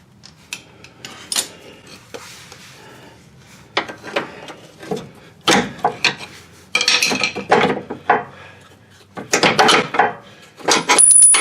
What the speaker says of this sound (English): Now let's see how easy this bolt comes out.